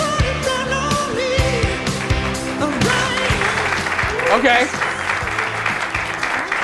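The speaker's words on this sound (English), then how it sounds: "Tepid applause by our audience" Audience at a performance gives lukewarm applause, a steady wash of clapping with scattered shouts over lingering music, while a voice speaks briefly on top.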